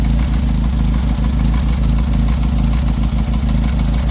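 A 1940 Austin Bantam Riviera engine runs at a steady, loud idle with a rhythmic low chugging and mechanical clatter throughout. It is close and continuous, with no voices.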